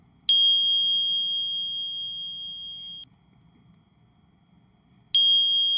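A bright electronic bell ding rings out and sustains for nearly three seconds before cutting off, then a second identical ding sounds after a brief quiet gap, clear and close.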